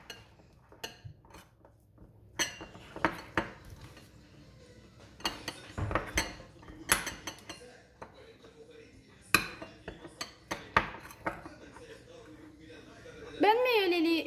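Rice and cornstarch for a homemade skin scrub get mixed in a bowl, giving irregular close clinks and scrapes of utensil against dish, with a short voiced sound near the end.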